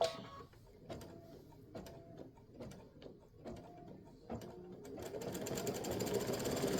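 A sewing machine stitches at about 600 stitches per minute while piecing a quilt block, starting with short separate bursts of clattering stitches, then running in a steady continuous whir that builds in loudness; no talking.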